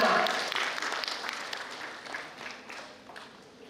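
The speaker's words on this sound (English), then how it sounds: "And a big round of applause for our Vice Chancellor, Ma'am." At a conference opening, an audience gives a round of applause: a soft, dense wash of clapping that starts strong and steadily fades away.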